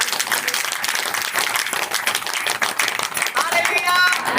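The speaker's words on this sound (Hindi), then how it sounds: "जोर से ताली बजाओ।" A church congregation claps loudly together, a dense, close burst of applause lasting several seconds, with a few voices and cheers rising near the end.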